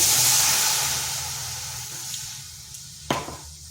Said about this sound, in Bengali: এখানে কড়াইতে দিচ্ছি একটু জল